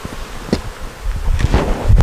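Honey bees from a DD nuc being moved into an eight-frame hive make a low, close buzzing hum mixed with light rustling, swelling toward the end of the short stretch.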